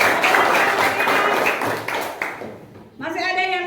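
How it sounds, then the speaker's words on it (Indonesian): A classroom of students applauds a classmate, a burst of dense close clapping that tapers off over a few seconds before a voice starts talking. "Ya, tepuk tangan untuk Aprilia."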